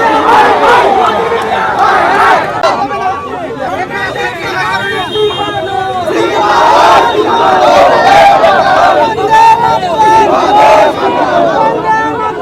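Large protest crowd on a Kolkata street chanting slogans in loud, continuous unison, with rhythmic rising and falling waves of many voices and background babble throughout.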